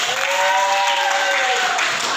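A classroom crowd claps steadily and loudly throughout, with a faint tonal sound running over the applause.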